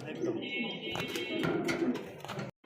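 King pigeons coo in low, throaty rolling calls near the listener, mixed with someone talking over them and some rustling movement, ending abruptly.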